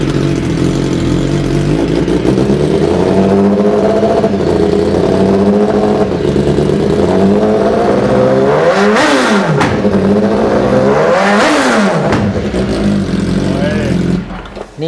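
A tuned racing engine revs hard and loud throughout, its pitch sweeping up and down, and two sharp exhaust backfire bursts crack out near the end, with voices talking over it.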